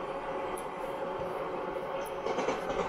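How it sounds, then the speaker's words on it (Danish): A train runs steadily in the Train Simulator video game on the Cajun Pass route, a continuous rumbling roll of wheels and engine at moderate level with faint clatter, no talking. "Så nu kører toget sådan set meget normalt. Den hakker ikke og sådan noget."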